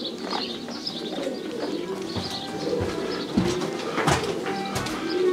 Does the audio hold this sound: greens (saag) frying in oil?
no